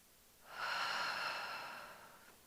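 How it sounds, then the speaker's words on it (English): A congregation at a Sunday service draws in a slow, collective deep breath, a soft airy swell rising over about a second and gently fading. "I'd like everybody to take a nice deep breath."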